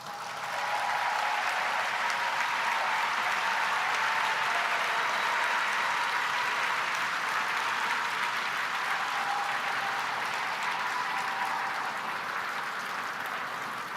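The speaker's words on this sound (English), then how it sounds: "all please stand and let's give them an AFT round of applause" A standing convention audience at the AFT Convention 2022 opening session gives international guests a long, steady round of applause, a dense wash of clapping that holds at an even level throughout with no voices over it.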